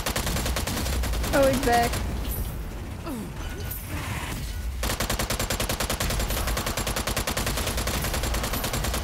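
Rapid, relentless gunfire in Strange Brigade, loud and dense throughout with a brief lull midway, while someone speaks briefly over it.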